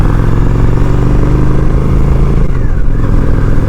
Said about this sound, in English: Oh, the bike is just running like tip top today, man.